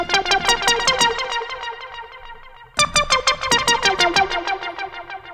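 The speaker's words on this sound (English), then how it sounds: "such an iconic synth riff" A bright, plucky synthesizer lead riff repeats in a quick staccato pattern, pausing briefly midway before starting again, loud and up front.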